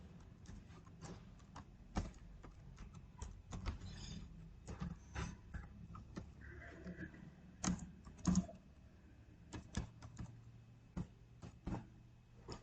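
Code for an LED chaser program is typed on a computer keyboard: a steady run of close, soft key clicks and occasional heavier strokes over a faint background hum, with no voices.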